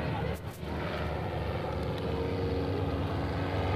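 An aerobatic airplane flies at an airshow, its steady engine drone filling the air loudly and continuously while an announcer talks over it.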